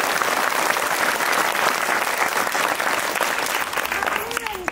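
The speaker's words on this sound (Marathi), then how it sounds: "हा जो टाळ्यांचा कडकडाट झाला ना" An audience at a public lecture bursts into loud, sustained clapping that fills the hall for several seconds, then begins to thin out, with a voice faintly audible beneath it.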